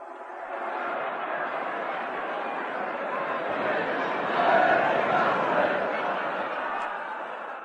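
Dense crowd noise from football supporters causing trouble on a far-end terrace, a continuous roar of many voices with shouts and chatter swelling slightly midway, heard at a distance as a radio drama effect.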